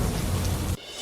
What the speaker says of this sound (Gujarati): અરવલ્લી જિલ્લામાં વરસાદે બોલાવી ધબધબાટી